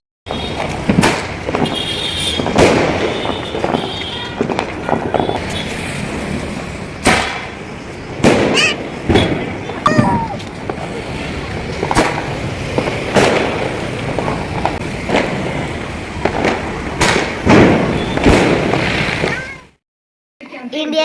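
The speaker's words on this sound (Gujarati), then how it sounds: "અગાસી કેટલા ફટાકડા ફૂટે છે." Firecrackers and sky shot fireworks pop and boom from a rooftop terrace during a celebration of India winning a cricket final. Sharp, loud bangs repeat irregularly throughout over a steady crowd and street din.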